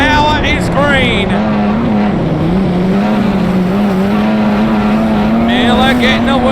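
Wingless sprint cars race in a heat at Southern 500 Speedway, a loud, steady engine roar with a wavering pitch as the pack circles, and brief high tire squeals near the start and end.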